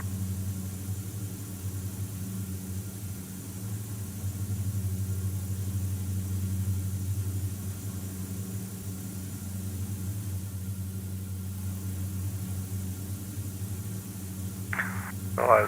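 A Diamond DA42 engine on approach in Microsoft Flight Simulator 2020 drones in a steady, low, even hum for the whole stretch, with a brief brighter burst near the end.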